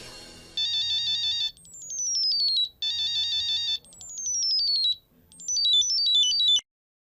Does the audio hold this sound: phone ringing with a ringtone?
yes